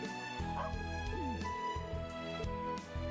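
Dog barking in the video game Trails of Cold Steel 3, several short yips and woofs in an irregular rhythm over steady background game music.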